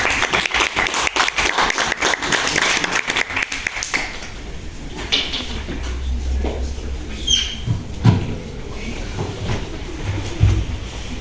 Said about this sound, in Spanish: Por favor, fuertes aplausos.